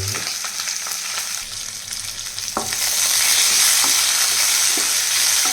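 A single onion and two green chillies frying in a pan, a steady sizzle that grows louder and denser partway through, with occasional scraping stirs.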